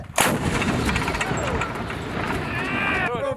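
Gunfire during a military exercise at Cobra Gold 2020 opens with a sharp close blast, followed by a dense rumbling wash of continuous shooting and a brief whistling sweep near the end.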